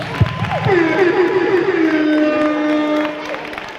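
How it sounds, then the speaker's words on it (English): A crowd at a College Decision Day event cheers and applauds, with a long, loud whooping voice rising and gliding down over scattered clapping and crowd noise close by. "Give yourselves a round of applause."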